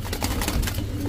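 Pigeons of fancy breeds coo in low, rhythmic pulses from close by, set against a steady background rumble.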